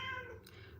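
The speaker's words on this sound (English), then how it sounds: "it's quiet, it's very peaceful. The only noise is the cat." A cat gives a single short meow in a quiet, peaceful room, faint and brief.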